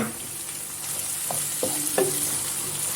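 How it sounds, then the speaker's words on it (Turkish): Minced meat with peeled tomatoes and black pepper sizzling in a pan, a steady frying hiss with several distinct scraping stirs of the spoon, close and fairly quiet with no talk. "Bir güzel karıştırıyorum"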